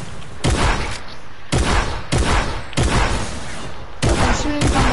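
Repeated bursts of video game gunfire, five or six loud, sharp volleys with ringing tails, coming at roughly one-second intervals close up.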